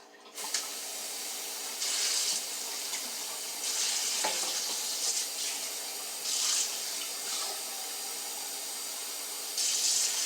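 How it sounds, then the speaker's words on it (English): Canned vegetables are rinsed under a running kitchen tap, a steady hiss of flowing water with several louder surges as the stream strikes the vegetables and sink. "I'm going to rinse my vegetables after they've been sitting in the can."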